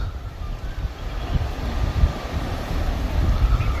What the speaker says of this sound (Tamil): அங்கே மட்டும் காற்று அவ்வளோ ஃபோர்ஸாக அடிச்சுக்கிட்டு இருக்கு